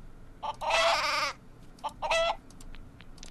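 Chickens clucking in the video game Craft the World, two bursts of loud, close squawking clucks separated by a short pause.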